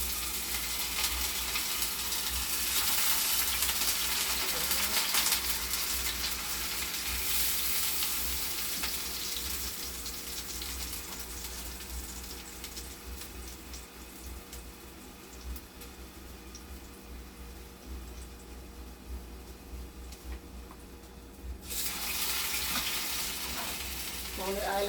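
Breadfruit frying in oil in a pot, a steady broadband sizzle that stays close and continuous throughout, briefly swelling louder near the end, with a faint voice occasionally underneath.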